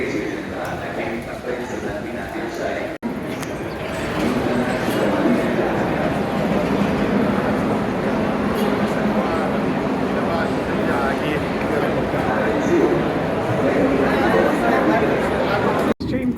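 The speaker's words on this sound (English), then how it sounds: "here we are on the subway in Rome trying to get to the hotel" A crowded Rome subway train carries riders toward their hotel, with a continuous loud rumble and rattle of the moving carriage under dense passenger chatter and nearby voices.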